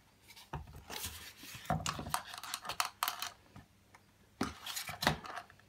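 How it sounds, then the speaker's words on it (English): Ball bearings pried out with a flathead screwdriver: quiet metallic scraping and clicking in irregular bursts, close up and faint. "the way you remove ball bearings is with a flathead screwdriver. Just work it around."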